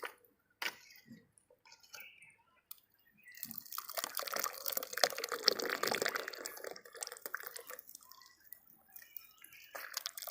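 Real honey oozing and dripping from a comb squeezed by hand, sticky wet squelching and dripping that swells to a dense, close patter in the middle, preceded by scattered clicks.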